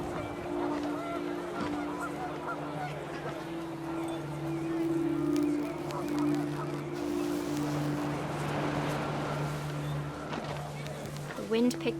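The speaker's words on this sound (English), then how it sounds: "panicked geese appeared and quickly went" In the video game What Remains of Edith Finch, panicked geese honk over rising wind, a busy, continuous outdoor noise with a voice speaking over it.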